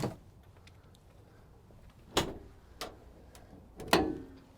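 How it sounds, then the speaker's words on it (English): The twin solid rear doors of a 2014 Peugeot Partner 1.6 HDi van are worked, producing a string of sharp latch clicks and metallic clunks, with a few louder knocks standing out over faint background noise and no talking. "We've got the twin solid doors at the back here,"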